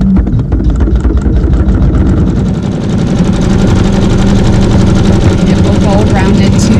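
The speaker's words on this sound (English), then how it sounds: "now we can sew a tack down stitch for the center applique" An embroidery machine runs a tack down stitch around a center applique on a Fleur de Lis block, a loud, fast, steady needle rattle with a rapid mechanical rhythm continuing throughout.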